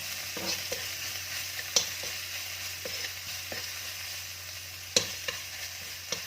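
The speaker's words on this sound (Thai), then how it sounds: "ผัดไปเลย ตอนนี้ใช้ไฟเบานะคะ" A steady sizzle of fish stir-fried in a three-flavour chilli sauce with chilli and garlic over low heat, broken by a few sharp utensil knocks against the pan, fairly close and with no talking.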